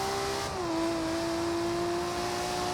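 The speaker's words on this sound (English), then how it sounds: "I forget how good the car sounds were in Horizon 2 as well." A car engine in the racing game Forza Horizon 2 holds a loud, steady drone whose pitch drops slightly early and then sustains, heard alone without talk.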